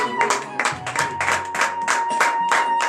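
A church congregation claps in acclamation at a morning prayer in Benin, with rhythmic, evenly spaced hand claps sustained for several seconds under a steady tone.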